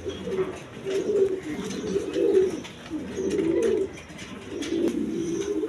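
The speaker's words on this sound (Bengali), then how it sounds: "দর্শকবৃন্দ এখানে এক পেয়ার কবুতর আছে, দেখেন নটটা হইলে বিউটি কবুতর, জার্মান বিউটি।" A pair of pigeons, a German Beauty and a Lotan, coo in repeated low throaty rolls, four close, loud phrases with short gaps, alone without speech.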